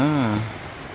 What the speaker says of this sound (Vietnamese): Vừa nắng lại mưa ngay rồi.